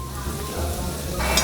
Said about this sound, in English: better squeeze some lemon all over it, and it's sizzling like anything